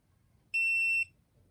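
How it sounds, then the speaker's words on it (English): Electronic jewelry tester gives a single sustained high-pitched beep lasting about half a second, clear and close over a quiet background. "No, if it's going to beep."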